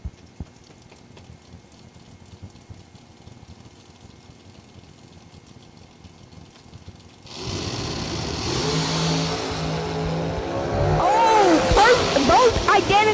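Drag race cars at a season kick-off race sit at a low rumbling idle, then roar off the line with loud, rising engine revs, while an announcer talks over the noise.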